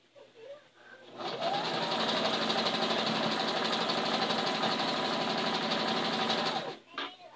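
Sewing machine stitching binding onto a quilt made with a tri cuter ruler, a loud steady motor whir running for about five and a half seconds, close up, with brief quiet handling before and after.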